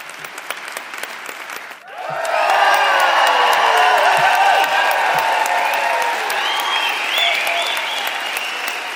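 A live audience in Calgary breaks into loud applause with cheering and whoops after a near-silent opening, and the roar stays full and steady to the end.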